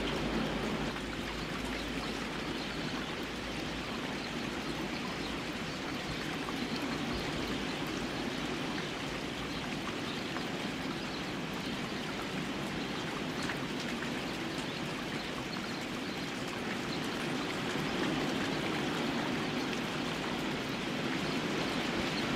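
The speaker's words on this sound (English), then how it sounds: "If you can hear me over the rain" Rain falls steadily outside, a dense, even hiss of drops on surfaces that holds at a constant level throughout with no talk.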